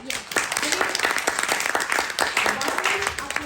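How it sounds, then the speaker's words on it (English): A live audience gives a round of applause for a young radio host, a dense steady patter of many hands clapping at moderate distance, sustained for a few seconds with voices mixed in. "Doesn't it deserve a round of applause?"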